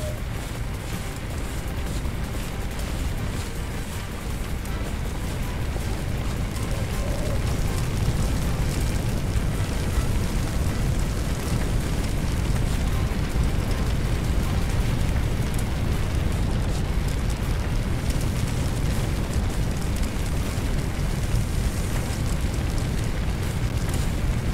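Fire hose spraying water in the Firefighting Simulator video game: a continuous, loud rushing hiss and spatter like heavy rain, steady throughout with a low rumbling roar beneath and no speech.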